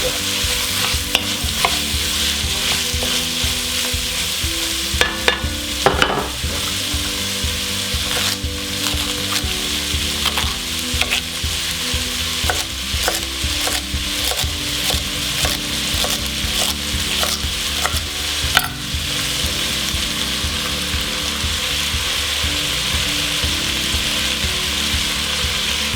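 Chopped vegetables for a Provençal soupe au pistou sizzle steadily in a hot pot, with stirring scrapes and clatters throughout and a brief louder knock near the middle, no voices.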